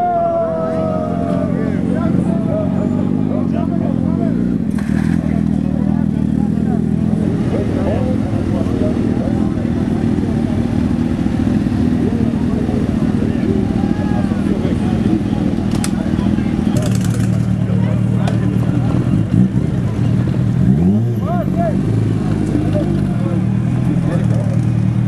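Motorcycles at a season-opening rally, a steady low engine rumble and idling throughout with a rising rev near the end, under a constant hubbub of crowd chatter outdoors.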